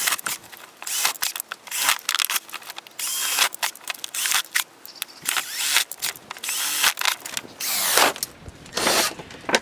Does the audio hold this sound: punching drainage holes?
yes